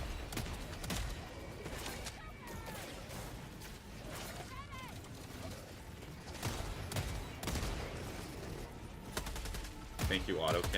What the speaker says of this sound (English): Thank you, autocannon.